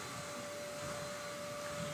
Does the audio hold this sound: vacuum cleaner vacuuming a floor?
yes